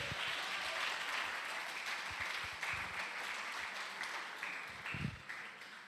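A church congregation at an adolescents' congress applauds, a dense continuous clapping that holds steady before gradually thinning toward the end.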